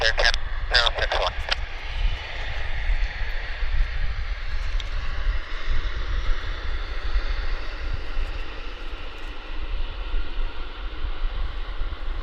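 An airliner lands at Vancouver Airport, its engines a loud, steady rumble and roar that hold for the whole stretch, while a voice speaks briefly near the start.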